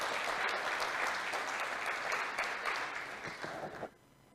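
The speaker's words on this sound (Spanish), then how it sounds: "Dale al Señor el aplauso y la gloria." A church congregation applauds in a steady, full burst of clapping that carries on for several seconds before cutting off abruptly near the end, leaving near silence.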